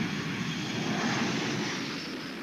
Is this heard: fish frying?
no